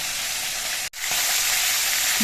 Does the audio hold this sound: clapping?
no